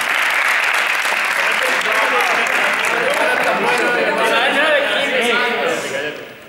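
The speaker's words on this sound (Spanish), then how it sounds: "Un aplauso para desequilibrio" Sustained applause from a seated group after a team exercise, dense and steady throughout with voices and cheering mixed in, fading slightly at the end.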